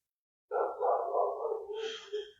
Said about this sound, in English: Sorry if you can hear all the dogs out there today over the top of me